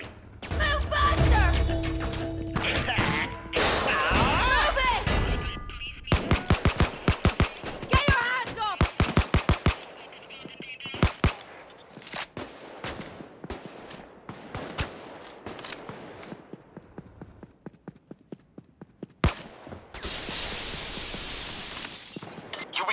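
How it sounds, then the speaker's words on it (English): Gunfire in a firefight during a Payday Watchdogs heist on Death Wish difficulty: loud, rapid bursts of automatic fire and single shots, with glass shattering and brief voices breaking through the barrage. "return fire and keep them off your position."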